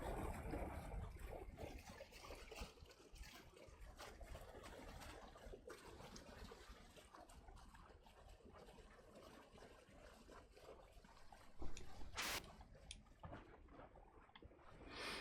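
Water from a waterfall in the video game Lifeless Planet trickles and splashes in a steady, faint, continuous wash, with a brief louder splash near the end.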